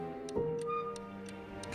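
Steady clock ticking inside a horror video game, a regular tick every third of a second or so, close and fairly quiet over a faint droning ambience with no voices.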